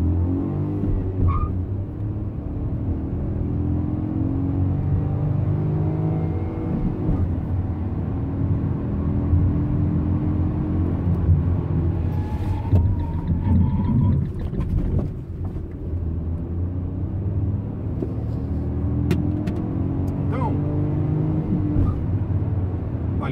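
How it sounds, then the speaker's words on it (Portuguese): A 2017 Fiat Uno with the 1.0 three-cylinder FireFly engine accelerates, its steady engine drone rising and falling through the gears with road rumble, heard from inside the car. "Vamos dar uma acelerada aqui para ver como que ele se comporta"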